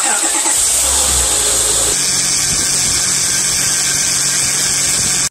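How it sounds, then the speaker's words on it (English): A car's power steering pump whines loudly with the engine running, the system leaking and drawing air into the reservoir; a steady mechanical whine holds close and constant throughout, with a lower engine drone under it early on. "that's why you're getting that loud whining noise and also those bubbles in your reservoir"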